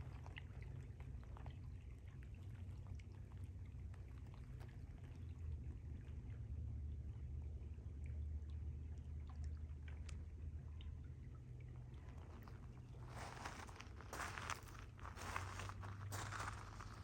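Steady broadband rushing and trickling of a clear river close by in Wiradjuri country, Australia, continuous throughout, with brighter splashing bursts near the end.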